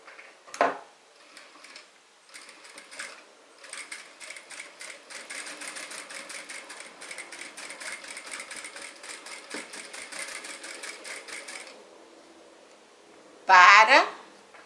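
A domestic sewing machine runs stitches across a small fabric fish keychain, a faint steady whirring that stops and starts for about eleven seconds with brief pauses, followed near the end by a short louder rustle or click.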